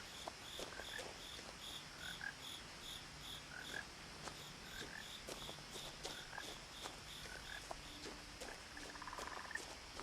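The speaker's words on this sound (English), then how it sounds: "Oh, I hear a frog." A frog croaks in short repeated calls against a quiet night backdrop of chirping insects and soft patter, in the video game What Remains of Edith Finch.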